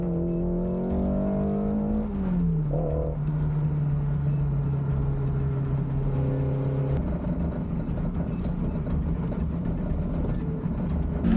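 A Ferrari Dino replica race car, suspected of brake trouble, eases back to the pits with a steady, close engine drone that shifts pitch a few times and turns rougher and busier toward the end.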